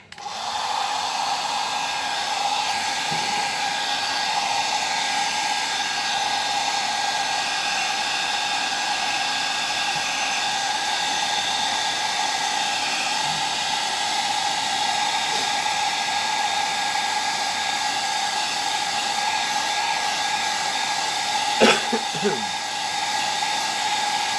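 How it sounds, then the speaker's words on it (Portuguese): A hair dryer blows steadily on car seat upholstery, a constant loud airy roar with a whining tone that runs unbroken, with a brief knock near the end. "Vamos passar o secador."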